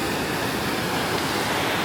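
Sea waves at a beach in Phuket make a constant broadband wash of surf, loud and even throughout with no distinct breaks or voices.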